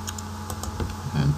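Keystrokes on a computer keyboard while lines of code are entered for a restaurant management program in Visual C++, a few scattered clicks over steady background hum.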